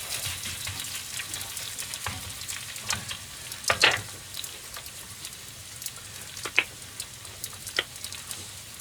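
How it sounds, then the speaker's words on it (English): Rice and a couple of eggs fry in a pan in a small boat galley, giving a soft, steady sizzle dotted with sharper crackles and pops. "And then we just start frying that off."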